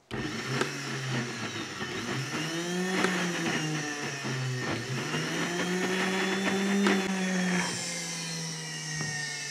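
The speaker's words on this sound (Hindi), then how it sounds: "आपने मशीन को रोक रोक के चलाना है, एकदम नहीं चलाना" An electric grinder jar whirs while blending ginger, garlic and green chili into paste, a steady high motor whine with a shifting pitch, running continuously before cutting off near the end.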